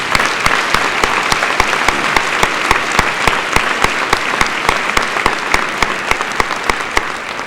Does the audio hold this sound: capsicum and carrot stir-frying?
no